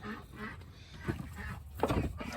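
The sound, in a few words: geese honking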